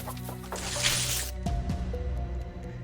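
A storybook hen clucks in short bursts amid wet, dripping sound effects, a brief close burst of bright noise followed by low rhythmic clucking tones.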